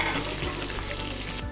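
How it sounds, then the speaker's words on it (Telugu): Onions dropped into a pan of frying garlic for an amaranth-leaf stir-fry, a brief burst of loud, continuous sizzling and crackling oil close up, with faint stirring underneath. "కొంచెం మగ్గాక ఉల్లిపాయలను అయితే వేసుకోవాలండి"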